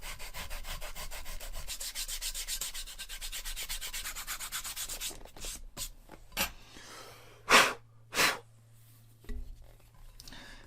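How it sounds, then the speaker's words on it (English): Sandpaper rubbed around a leather briefcase handle, a steady scratchy back-and-forth rasp for about five seconds, then a few separate louder strokes and scrapes with quieter gaps, close and fairly soft. "And then taking a piece of sandpaper and going around"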